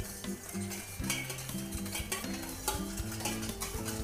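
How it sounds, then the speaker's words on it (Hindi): Sugar being stirred to dissolve it while making sweet puas, with repeated scraping and clinking of a spoon against a metal vessel in a steady, busy rhythm, close and without speech. "तो अभी मैं चीनी को अच्छे से घोल लेती हूँ। इस चीनी को मैं अच्छे से मिक्स कर लेती हूँ।"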